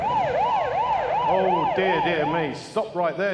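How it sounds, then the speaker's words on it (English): An ambulance siren wails in a smooth rising and falling pattern, loud and near, then shifts to a faster yelp near the end as a voice speaks over it. "that sound you heard was an ambulance that is likely to be taking these children to hospital"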